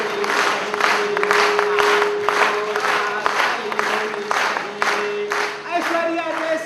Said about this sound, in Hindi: तो आपकी जोरदार ताली होनी चाहिए